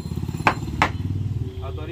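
A hammer strikes an Indian Army bulletproof helmet twice in close succession, two sharp, loud blows about a third of a second apart, with voices murmuring underneath.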